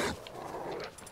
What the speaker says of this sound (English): there's a pack of wolves. Oh, they're dogs.